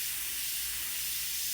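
An airbrush sprays paint with a steady, airy hiss, applied heavily in one continuous pass, close and even for the whole stretch with no talk.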